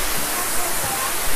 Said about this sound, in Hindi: बस यहाँ से पानी गिर ही रहा।